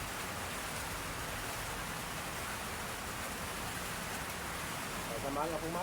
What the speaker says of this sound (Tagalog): Ayan, umuulan na panahon